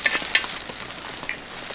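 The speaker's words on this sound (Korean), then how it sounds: "자글자글 붙이는 부침개와" A Korean vegetable pancake fries in a hot oiled pan, a close, bright crackling sizzle with quick popping bursts and light spatula stirring, no voices.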